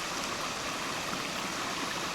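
Steady broadband rush of a waterfall pouring into a pool at Cilaos on La Réunion, heard as a continuous, even roar of falling water with no breaks and no voices.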